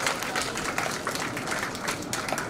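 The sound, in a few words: audience applause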